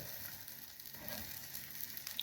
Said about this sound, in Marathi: सरसर आवाज येतो तो भरपूर आला आहे